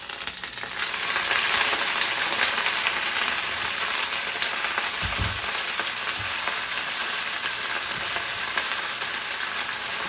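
Shallots and spinach frying in a pan on medium-high heat give a loud, continuous sizzle with a dense crackling hiss, plus a couple of soft low thumps as the greens are stirred or dropped in, with no talking.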